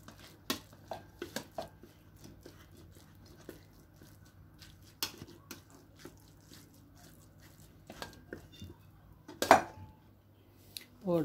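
Tuna is pressed and squeezed in a bowl with a spoon and fork, producing scattered metallic clinks and scrapes against the dish, separated by quiet gaps and soft squishing.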